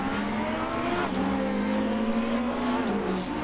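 Race cars launching off the start at the Nürburgring in a racing video game, including a Peugeot 406, a loud engine drone with rising revs and a shifting pitch, steady and without talk.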